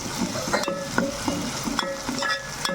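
Ground ginger-garlic masala paste being stirred and fried in a pan, a steady sizzle with repeated scraping strokes of a spoon at an uneven rhythm, close by and without speech.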